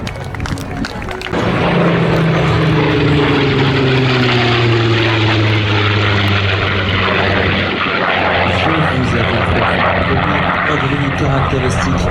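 A Yak-3 propeller warplane lands at an airshow, a loud droning engine with a slowly falling pitch that swells suddenly and then settles into a steady roar, while an announcer talks over a public address system.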